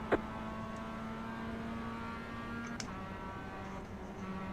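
Toyota 86 race cars on track during a Sunday race, heard from inside as a steady, fairly quiet engine drone holding one pitch, with a faint clunk partway through.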